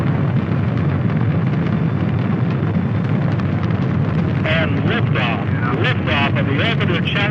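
Space Shuttle Challenger lifting off in 1983, a loud sustained rocket roar with crackling texture throughout, and a narrator speaking over it in the latter half.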